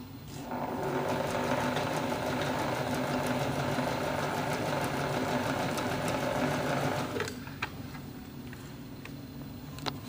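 A sewing machine runs steadily for about seven seconds, stitching along the edges of a fabric bag, then stops. A few faint clicks and handling sounds follow. Nobody speaks.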